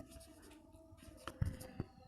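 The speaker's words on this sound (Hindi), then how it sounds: "लिखेंगे" Chalk or marker strokes scratch across a board during a maths lesson, a few short faint bursts with two sharper taps near the end, heard alone without talk.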